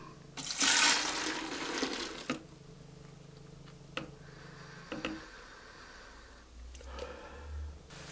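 Demineralized water poured for a giant soap bubble mix: a loud splashing gush early on, then quieter trickles and a few light knocks, with no talk.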